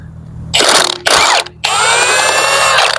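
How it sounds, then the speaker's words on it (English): A ratchet with an 18mm socket undoes the top shock bolt on a Cadillac SRX front suspension. It gives loud, fast clicking in three bursts, with a short pause after each of the first two and a long steady run at the end. "got an 18mm socket on here. And undo this."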